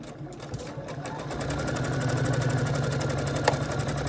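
A sewing machine stitches placemat fabric in a steady rapid whirring rhythm, close and fairly loud, gradually building and running continuously with a faint tap near the end.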